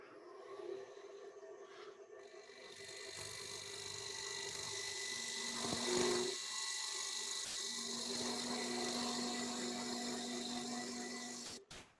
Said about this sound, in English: So I should be able to just push that and create the tenon.